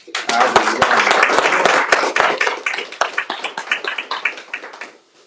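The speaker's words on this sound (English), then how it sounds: "So let's give a warm round of applause for Evan" An audience gives a warm round of applause for a speaker named Evan at a speaker-series event, many hands clapping loudly and close at first, then thinning into scattered claps before stopping, with voices mixed in.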